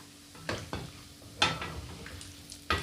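Crispy salty mango slices frying in hot oil, with soft sizzling under a few sharp clinks and stirring scrapes of a utensil against the pan, close and fairly quiet.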